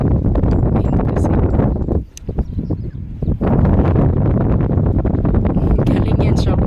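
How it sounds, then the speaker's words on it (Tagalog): Strong gusts of wind on a mountain trail buffet the microphone in a loud, continuous roar, dropping briefly in the middle before surging back. "Ang lakas ng hangin."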